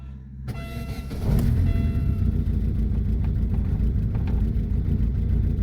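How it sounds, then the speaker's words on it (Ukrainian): A Daewoo Lanos 1.5 engine, after an injector replacement, cranks briefly, catches and settles into a steady, slightly uneven idle close by, following a short electronic chime. "Так, робимо запуск двигуна."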